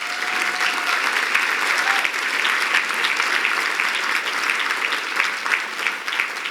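A gala audience applauds steadily throughout, a dense, even wash of many hands clapping at sustained loudness with no break.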